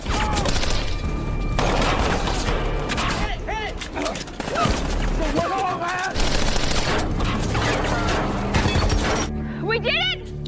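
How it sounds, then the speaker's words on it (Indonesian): Rapid bursts of gunfire fill a battle scene from The Walking Dead season 3, loud and continuous with crashes and booms, while voices shout and a narrator talks over the shooting. "hingga tembakan bertubi-tubi yang dilepaskan akhirnya dapat memukul mundur kelompok gubernur di wilayah ini"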